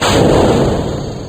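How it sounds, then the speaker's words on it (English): A loud, booming blast in Kerbal Space Program with a rumbling roar that slowly tapers off over about a second. "I hear explosions, which I shouldn't be hearing in space!"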